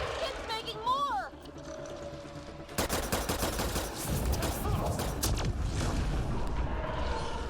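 Rapid bursts of gunfire are aimed at a robot in the video game Mass Effect Andromeda. Game sound effects come first, then dense, loud volleys rattle on continuously while a voice talks.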